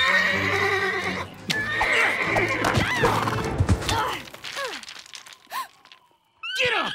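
A horse whinnies loudly and at length during an animated-series standoff scene, followed by snorts and shorter neighs, with some hoof clatter and scuffling nearby.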